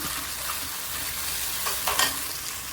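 Ground tomato is stirred into a frying mutton kofta curry, giving a steady soft sizzle with a brief burst of louder scraping and bubbling near the end, no voices.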